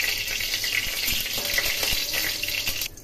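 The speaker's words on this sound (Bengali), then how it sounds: "এখন এর মধ্যে আমি পাঁচফোড়ন এবং শুকনো লঙ্কা ফোড়ন দিলাম। এগুলো একটু ভেজে নেব।" Hot oil sizzles and crackles loudly and steadily as panch phoron and dried red chillies fry, with a few light taps against the pan, cutting off abruptly at the end.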